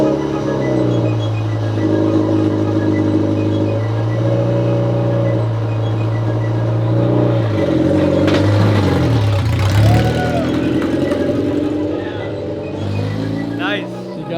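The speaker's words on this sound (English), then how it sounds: "First time on the track with the F4 car." An F4 race car on a track, its engine droning loud and close at steady revs, then dipping and climbing as it shifts, with voices talking over it.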